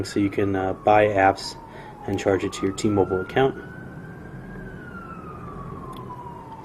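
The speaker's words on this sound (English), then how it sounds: "Pardon the sirens there, we're in New York." An emergency vehicle siren wails, rising and falling in the distance on a New York street under a man's speech, then keeps sounding alone over steady city traffic rumble.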